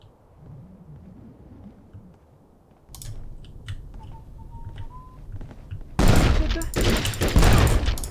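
Gunfire in the video game Conflict: Desert Storm, with scattered sharp shots and then a loud, dense burst of rapid automatic fire near the end, over low background rumble.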